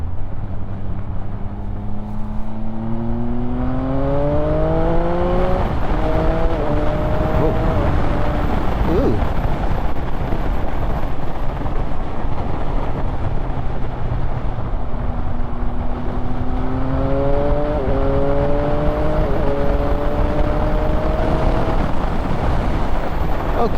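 A 2019 Triumph Speed Triple RS motorcycle engine accelerates hard, its loud rising roar climbing through several quick upshifts, each with a brief break, then settling before another run of rising pitch and shifts, heard from the rider's position amid wind noise.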